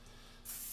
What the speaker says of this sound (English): Little spray in my cast iron there, just a touch.